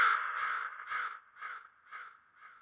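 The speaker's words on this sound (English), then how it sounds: "I've got a little crow in here as well." Within a music track, a crow gives a series of about six harsh caws at an even pace, loud at first and fading slightly with each call, with nothing else heard around it.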